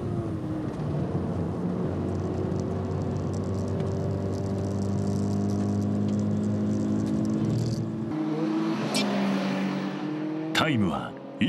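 A race car on new-spec tires laps Okayama International Circuit, its engine droning steadily at high revs, then dropping away as it shifts and brakes near the end, with a narrator talking over it.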